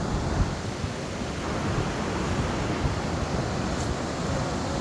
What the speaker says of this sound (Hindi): बहुत ठंडा ठंडा पानी बह रहा है